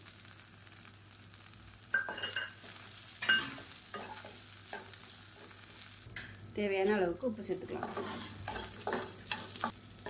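Grated coconut, curry leaves and tamarind sauté in a pan, with soft sizzling and the scrape of stirring running steadily under a voice speaking calmly.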